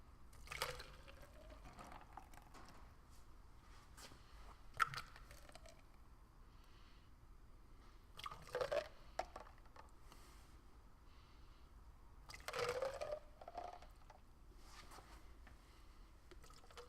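Water poured into Keto Chow shaker bottles up to the 16-ounce line, heard as a few short, quiet pours with a rising fill tone, separated by near silence.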